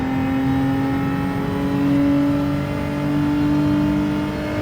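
Genesis G70 GR4 race car in Gran Turismo 7 accelerating under steady throttle. The loud, close engine drone holds a smooth, rising tonal whine, sustained without a break and with no talking.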